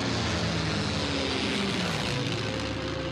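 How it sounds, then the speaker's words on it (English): A WWII-era B-25 warbird propeller aircraft in flight during air-to-air filming of a B-29, its engines giving a loud, steady, dense drone with no talk over it. "we could film the B-29 from one of their B-25s"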